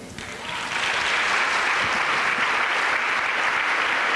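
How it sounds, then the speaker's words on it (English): A crowd at a county fair queen contest applauds the contest co-chairs, the clapping swelling quickly and then holding as a steady, full roar in a hall. "Step out here and be applauded."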